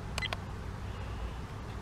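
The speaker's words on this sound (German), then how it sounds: "Tastentöne können wir ausmachen" A Ceyomur CY70 2.7K wildlife camera gives two quick, faint electronic key beeps close together near the start, followed by a low steady room hum.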